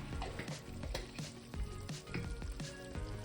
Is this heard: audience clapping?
no